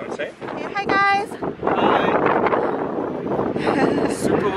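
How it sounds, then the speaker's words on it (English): Strong, cold wind buffets the microphone in a steady roar at a snowshoe trail in Bragg Creek, and a person speaks briefly over the gusts. "Oh wow, it's really windy and cold."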